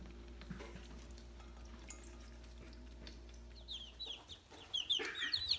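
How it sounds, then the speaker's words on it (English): Chickens cluck softly against a low steady hum, with brighter, louder clucks and squawks bunching up near the end. "So the chickens are big too."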